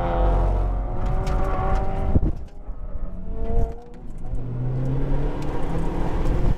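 Honda Civic Type R FK8 lapping a race track at Shenandoah, its engine droning steadily with a brief dip midway as the car slides, then pulling again; no talk.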